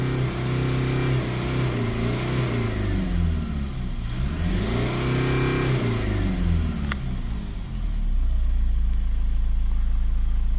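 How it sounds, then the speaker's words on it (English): A Honda CR-V 2.2 diesel engine with a blocked DPF revs up several times nearby, pitch climbing and falling, then settles into a steady, louder rumble toward the end. "Now we'll get back inside, we'll give it a few revs just to get it cleared out."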